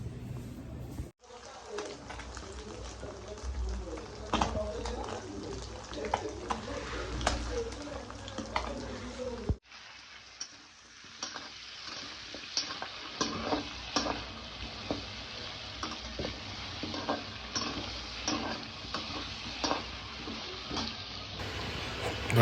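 Fish frying in oil in a home kitchen pan, a steady crackling sizzle with stirring scrapes, briefly cut off and then resuming, with a voice talking intermittently over it.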